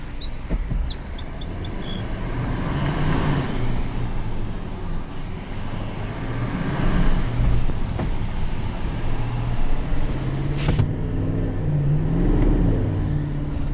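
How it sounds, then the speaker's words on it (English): A 2020 GMC Sierra 2500HD AT4 diesel pickup truck engine rumbles steadily as it drives, with constant road noise and a few faint chirps early on. "The sound of a diesel is unlike anything else."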